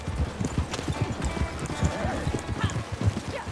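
Horse galloping in the video game Red Dead Online, a rapid continuous drumming of hoofbeats with a short whinny partway through, steady and close throughout.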